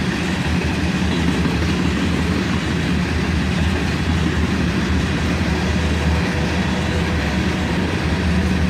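Southbound hopper freight train passing close by, a steady, loud rumble with rhythmic wheel clatter that holds at an even level throughout.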